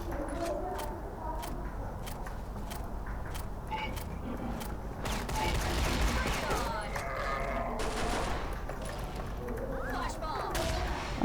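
Rapid shotgun blasts from the Holy Shotgun in the Vietnamese version of the video game CrossFire, a dense run of gunfire bursts over a busy game soundscape, with a player's voice talking underneath.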